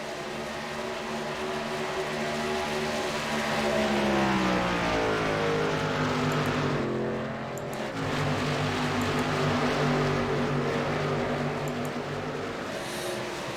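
Racing truck engines in the Gander Outdoors Truck Series on Chicagoland Speedway in iRacing roar continuously at high revs, with pitch sweeping up and down as trucks pass, loud and steady without talk.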